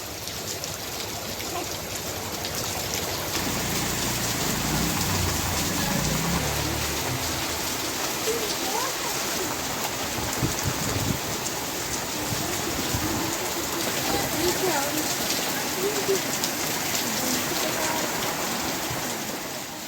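Heavy rain pours steadily in Chennai at night, a dense, continuous hiss of downpour holding at an even loudness throughout, with no voices.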